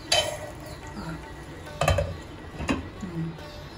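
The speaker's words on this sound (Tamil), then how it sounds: "இது பேர் தான் ஷாலோ ஃப்ரைங்." Thavala vada shallow-fries on a low flame in a pan with a faint sizzle, punctuated by a few sharp clanks of a utensil against the pan.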